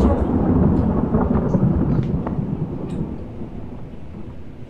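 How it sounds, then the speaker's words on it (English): A thunderstorm in the horror video game Targeosity rolls as a loud, continuous low rumble of thunder with rain hiss, gradually easing over several seconds without talk. "There's a thunderstorm."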